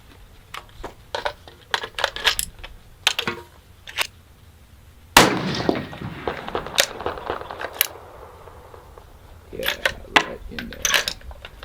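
Spent cartridge cases ejected from a Sauer 100 bolt-action rifle, sharp metallic clicks and tinkling clatters spread through the clip, with a louder crack in the middle and people talking quietly between them.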